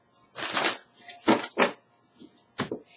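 Cards being shuffled close by in several short, crisp riffling bursts separated by brief pauses.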